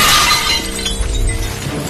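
Window glass shattering in a film scene, a sharp loud crash at the start followed by scattering debris and ringing shards settling over a couple of seconds, with no talk.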